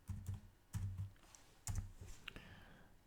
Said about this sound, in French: Je vais essayer de taper CDN.